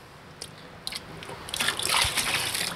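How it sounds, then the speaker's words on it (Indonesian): Water is poured onto the soil of a potted fruit tree after fertilizer is applied. A soft splash and trickle builds to a steady, close pour with no talk. "Saya justru siram dulu."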